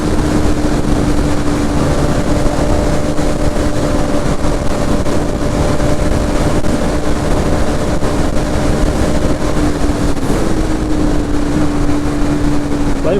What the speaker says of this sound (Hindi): भाई फुल पुश कर रखा है NS 200 को।